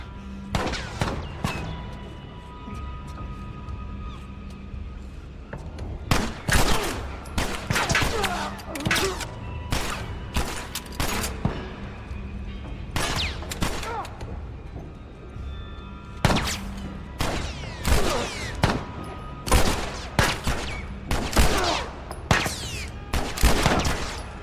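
Repeated bursts of gunfire in The Last of Us Part 1, loud volleys and rapid shots in clustered salvos across the span, with brief lulls and a steady game backdrop between them.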